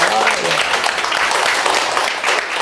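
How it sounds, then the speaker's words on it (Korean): An audience in a lecture hall breaks into applause, a dense burst of many hands clapping steadily and fairly loudly for a few seconds. "저에게도 박수 좀 보내주세요."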